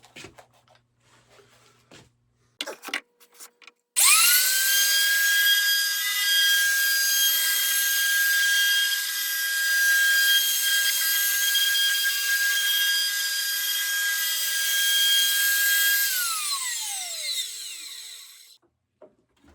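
A loud, screaming power tool roughs out the radius on a wooden guitar neck, a steady high whine lasting about twelve seconds after a few brief clunks, then spinning down.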